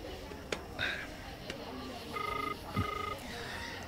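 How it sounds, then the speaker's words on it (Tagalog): A cellphone rings in a radio drama, with short electronic ringing bursts repeating over a steady background bed and a few clicks, moderately loud with no talking. "Agre-ringan ti cellphone na."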